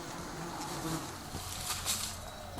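Honeybees in a colony make a continuous buzzing hum, with faint rustling and small taps over the steady drone.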